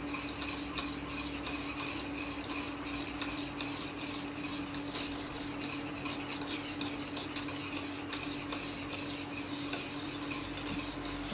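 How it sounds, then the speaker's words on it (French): Cake batter stirred in a pan as the butter melts, a spoon scraping and ticking against the sides in a continuous, even rhythm, close and moderately quiet with no talking. "vous mélangez jusqu'à temps que le beurre soit fondu"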